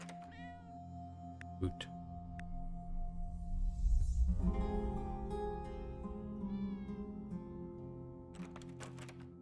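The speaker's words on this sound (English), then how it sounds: "I definitely hear the cats in the vicinity." Cats meow close by, several short meows and a longer drawn-out call, under a low steady hum, with someone briefly speaking.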